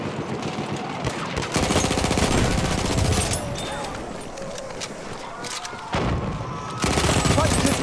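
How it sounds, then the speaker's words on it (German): Enemy machine gun fire in the Battlefield 1 shooter game, rapid repeated bursts of gunfire sustained across the clip with a pause and renewed volleys, loud and close, mixed with battlefield noise and some voices. "Feindliches Maschinengewehr!"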